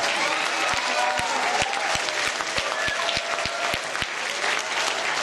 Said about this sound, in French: Vous pouvez tous les applaudir encore très fort, s'il vous plaît.